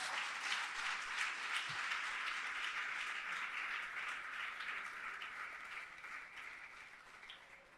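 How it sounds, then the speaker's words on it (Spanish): A church congregation applauds at a Spanish-language worship service, a dense, steady wash of clapping from many hands that holds for several seconds and thins slightly toward the end, with no talk over it. "¿Cuántos le pueden dar un aplauso a Jesús?"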